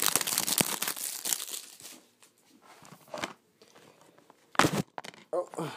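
Plastic wrap crinkles and tears as it is pulled off a Little Busters anime disc set, with loud crackly bursts early on, quieter rustling in the middle and a sharp crinkle near the end.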